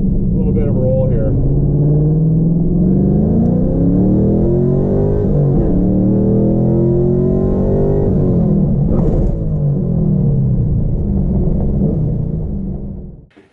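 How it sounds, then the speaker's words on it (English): A Z06 pulling hard through first and second gear, its engine rising loud and close with a steady rumble, climbing in pitch, easing briefly, then climbing again before cutting off at the end. "Do a first, second gear pull."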